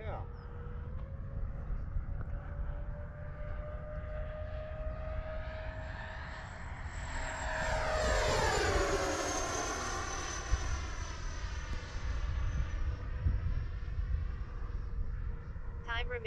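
An E-flite Su-30 radio-controlled model jet flies past, its engine whine climbing and then falling as it sweeps by around the middle, over steady outdoor noise.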